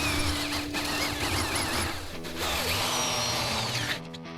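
A power drill spins a wooden dowel rod through a scrap-metal dowel jig, a loud buzzing whine with wavering pitch, a brief dip midway, then steady grinding until it cuts off at the end.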